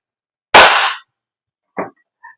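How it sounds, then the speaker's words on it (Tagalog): A WE HK416 gas blowback airsoft rifle fires one loud, sharp shot, followed after a pause by a shorter mechanical clack and a faint final click in otherwise quiet surroundings. "Lakas ng pressure noong unang putok, 416."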